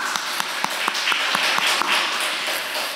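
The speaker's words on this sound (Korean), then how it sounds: "우리 박수 한번 하죠" A church congregation claps to welcome a returning member during a Sunday service, scattered hand claps rising into a brief, fairly close round of applause.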